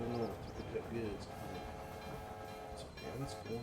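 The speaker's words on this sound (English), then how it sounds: "Nope, that's a train going back to the north to pick up goods." A train passing by in the railroad simulation game Railroad Empire, a continuous rumble with tonal horn-like tones rising and fading over a few seconds, no talk over it.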